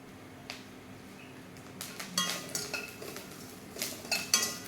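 Coconut and onion being sautéed in a pan until brown, stirred without pause: a quiet sizzle under repeated metallic scrapes and clinks of a spoon against the pan, growing busier toward the end.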